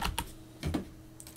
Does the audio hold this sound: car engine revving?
no